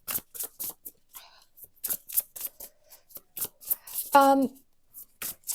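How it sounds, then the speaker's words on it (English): Tarot cards are shuffled by hand in a string of short, crisp riffling bursts with brief pauses between them, close and clear, with a quick higher rattle partway through. "I am shuffling your group's cards"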